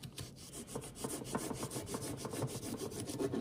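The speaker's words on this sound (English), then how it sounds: "I've been using a hacksaw to cut it." Hacksaw cutting soft, light lure-making material up close, with quick rhythmic rasping strokes repeating steadily.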